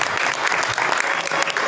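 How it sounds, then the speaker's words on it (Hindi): A crowd at a World Theatre Day gathering breaks into loud, dense applause, a continuous burst of clapping close by. "उनके लिए तालियां बनती"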